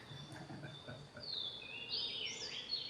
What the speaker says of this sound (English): Also some birds, and you can tell that it probably is early in the morning.